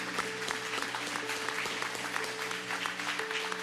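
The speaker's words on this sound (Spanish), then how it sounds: "Vamos a darle un aplauso al Señor de señores." Church congregation at a Sunday service applauds continuously, a steady crowd of clapping hands heard at moderate distance, with a sustained musical tone humming underneath.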